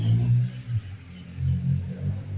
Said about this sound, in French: ça c'est la voiture du voisin